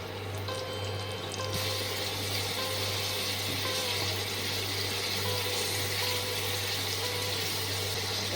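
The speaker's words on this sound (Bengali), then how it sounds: "সামান্য একটু জল দিয়ে দিচ্ছি যাতে মশলাটা না পুড়ে যায়" Water is poured into spiced masala in a pan while cooking a Bengali dhoka dalna, giving a steady, continuous splashing hiss for several seconds over a low hum, with no talking.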